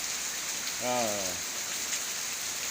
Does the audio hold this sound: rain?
yes